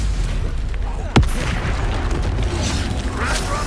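Stupefy spell cast in Hogwarts Legacy: a single sharp crack-like burst near the start, followed by rumbling booms and clattering combat noise that carries on loudly.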